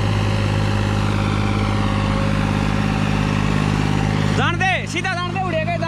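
A New Holland 3630 tractor engine runs steadily in thick mud, a loud continuous drone, with a voice speaking briefly near the end.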